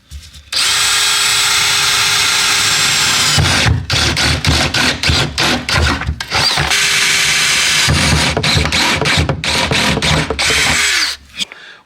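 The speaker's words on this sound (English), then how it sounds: "drill holes in your car to make your car go lower" Power drill boring holes into the body of an Audi being lowered for air ride, a loud sustained whine from about half a second to nearly twelve seconds, interrupted by repeated short bursts and pauses.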